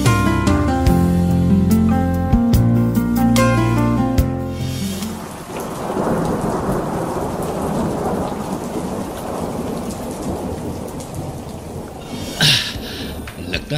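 Thunderstorm sound effect in a Hindi radio drama: after a few seconds of closing music, heavy rain hisses steadily with rolling thunder underneath and a sharp crack of thunder near the end, no speech.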